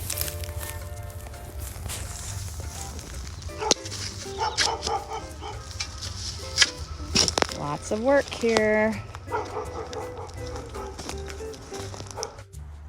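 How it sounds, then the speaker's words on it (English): A dog barks intermittently outdoors in a school garden where fruit trees are being planted and thinned, the barks fairly distinct among rustling and footsteps, with a person talking over it. "We have a dog that does not like our presence here."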